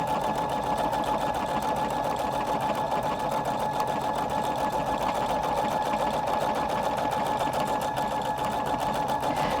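A Husqvarna Viking Designer Brilliance 80 sewing machine stitching big decorative patterns, a steady fast rhythmic whirring hum running evenly and alone at close range.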